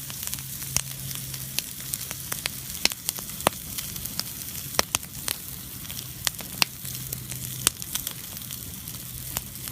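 Sirloin steak sizzles on a hot rock at a winter camp, a steady close hiss broken by frequent sharp pops and crackles, with no voices over it.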